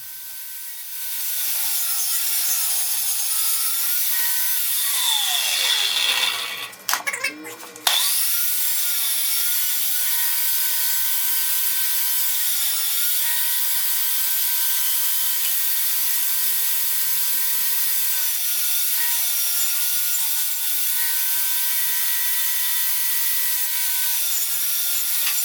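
Router or power saw cutting a groove just over a quarter inch wide into wood boards for a budget bar build, a steady loud whine running nearly throughout with a brief dip and stop midway before resuming.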